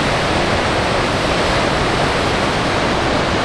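Rushing white water currents at Devil's Hole at night make a loud, steady, close roar of broadband noise that never lets up and stands alone.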